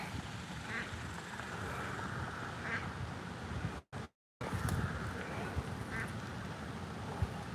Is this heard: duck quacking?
yes